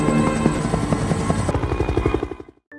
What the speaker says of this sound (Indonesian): Kapten Mora akan berangkat hari ini menggunakan sebuah helikopter